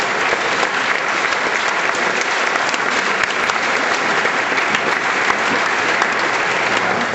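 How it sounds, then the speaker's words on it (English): A school graduation audience, Maplewood 2006, claps in sustained, loud, dense applause that continues evenly for several seconds. "each and every one of these four up here needs to give a big round of applause"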